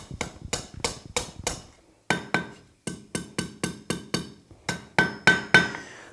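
A hammer tapping a hot steel fork on an anvil at a coal forge: about twenty close, crisp metallic strikes in quick steady runs separated by short pauses, some ringing briefly.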